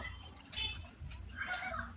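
Water poured into a pot of boiling chicken and potato curry to make the gravy, a soft splashing pour in two short bursts over a low kitchen hum.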